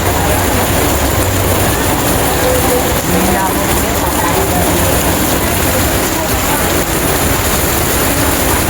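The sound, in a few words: heavy monsoon rain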